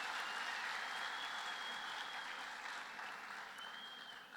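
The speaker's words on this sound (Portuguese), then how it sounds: "Uma salva de palmas para os meus atores." A church congregation applauds actors, a dense, steady wash of clapping from many hands that fades slightly toward the end, heard at a moderate distance.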